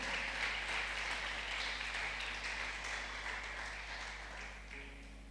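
A church congregation at a Spanish-language worship service applauds, a dense continuous wash of clapping that slowly fades over several seconds.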